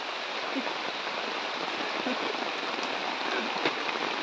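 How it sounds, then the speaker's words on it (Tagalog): Heavy typhoon rain pours down continuously, a dense hiss of drops drumming on surfaces, loud and unbroken throughout. "lakas na ng ulan"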